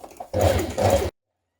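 A sewing machine stitches the skirt side seam of a gymnastics leotard in one brief close whirring burst that stops abruptly, followed by silence.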